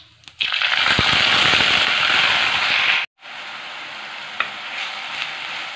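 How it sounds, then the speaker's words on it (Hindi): Chopped onions sizzle and crackle loudly in hot oil with cumin in a pan, a steady dense frying hiss that briefly cuts out, then resumes softer with a few sharp pops. "बस प्याज को आप भून लीजिए"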